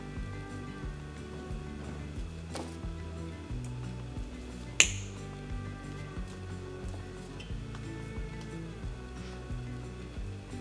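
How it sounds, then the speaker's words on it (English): Jewelry wire trimmed with cutters for a bead loop on a statement necklace: one sharp close snip stands out over soft background music, with a few faint handling ticks around it. "We're going to trim that and form a loop."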